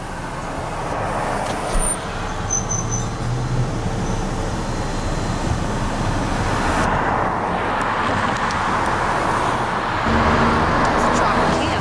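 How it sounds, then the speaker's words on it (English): Weekend night traffic crawls along the Las Vegas Strip near Tropicana, a steady wash of car and engine noise with a brief hiss of air brakes. Voices talk over the street din throughout. "There's more traffic than I thought that they would."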